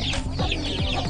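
Bangkok chickens, a fighting-breed fowl raised on a village farm in Kuningan, cluck in short close bursts over a steady low background hum.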